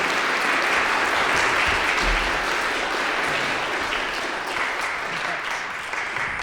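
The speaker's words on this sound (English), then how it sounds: "A round of applause for Megan and Murray McMillan" An audience applauds Megan and Murray McMillan at a morning arts event, a dense, steady wash of clapping that holds for several seconds and slowly eases.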